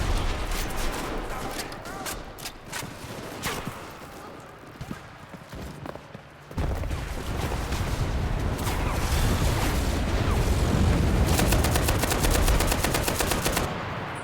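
A Browning M1919A6 machine gun fires in the WWII shooter game Enlisted: long rapid bursts of loud gunfire with brief pauses, mixed with distant shots and battle noise.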